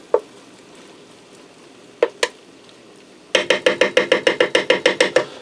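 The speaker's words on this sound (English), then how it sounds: "you just want to blend it in there good. You want all your potatoes coated" Potatoes being stirred in a Ninja Speedi: a few isolated scraping knocks, then a fast, regular run of about a dozen sharp utensil clacks against the pot, close and fairly loud, with no talking.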